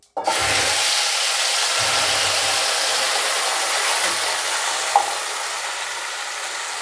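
Onion, tomato and chili masala paste fries in hot oil with a steady, loud broadband sizzle that runs throughout, with a few faint low bumps and clinks near the start.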